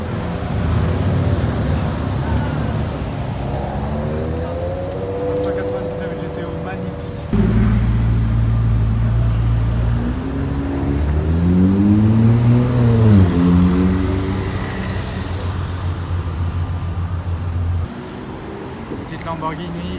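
A grey Porsche 992 GT3 sports car drives past on a street, its engine note rising and swelling as it nears, then fading, while someone talks over it in French throughout.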